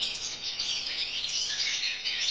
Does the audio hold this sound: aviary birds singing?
yes